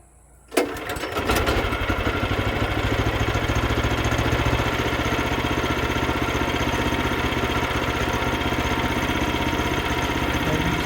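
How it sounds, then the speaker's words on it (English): A Woodland sawmill engine, unused for about a year, cranks and fires in a quick rough burst, then settles into a loud, steady, close idle with an even mechanical throb and no talking. "And you can see it started right up and it hadn't been cranked for close to a year or so."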